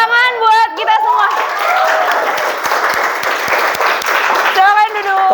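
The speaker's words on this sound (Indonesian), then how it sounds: "tepuk tangan buat kita semua" Applause from a classroom of students, a dense burst of clapping lasting several seconds, with a teacher's voice speaking briefly before and after it.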